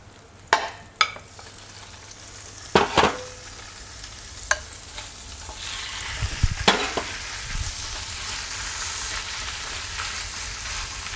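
Ground meat fries in a pan of sizzling melted margarine, giving a steady crackle with a few sharp clinks and scrapes from stirring scattered throughout.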